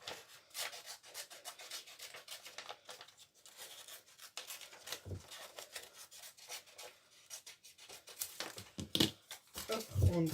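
Scissors cutting a small paper Mewtwo picture for a handmade Pokémon booster card, giving steady close crinkly rubbing and snipping that runs throughout with a few sharper clicks near the end.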